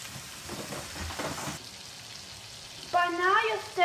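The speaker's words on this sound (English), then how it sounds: "Baste the steak in the butter." A steak sizzles in a pan of butter with garlic and rosemary while being basted, giving a soft, steady frying hiss with light spoon scrapes, and a voice speaks briefly near the end.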